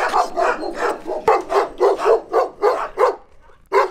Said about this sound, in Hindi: Sylvia, I think the dogs love us, काफी प्यार करते लग रहा है कुत्ते हमसे